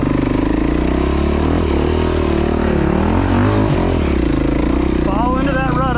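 A dirt motorcycle at full throttle climbing a big hill at Croom Motorcycle Area: a loud, close, continuous high-revving engine roar that holds steady throughout, with a voice shouting briefly over it.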